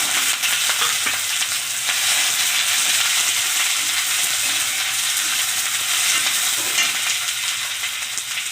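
Cumin, green chilli and onion fry in hot mustard oil, a steady, loud, dense sizzle that crackles without pause from start to finish, with light stirring and no voices.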